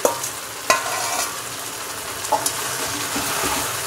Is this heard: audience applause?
no